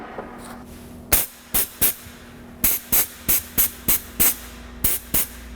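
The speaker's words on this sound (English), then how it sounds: "I hear a leak right up inside the fender somewhere." Car windshield washer fluid spraying from a leaking hose, a series of short sharp hissing spurts in a quick irregular rhythm, close and fairly loud, with no talk.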